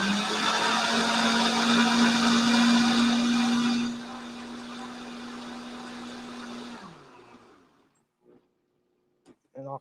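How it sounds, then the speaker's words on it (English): A blender running on low is turned up to break down peppers, whirring loud and steady with a strong motor hum, then winding down and stopping, leaving near silence with a few faint clicks. "we got our blender on low. I'm going to turn it up a little bit now that we got it in there."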